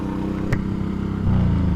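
A motorcycle exhaust drones low and steady while riding, rising in loudness near the end as the engine pulls harder, with a brief thump partway through.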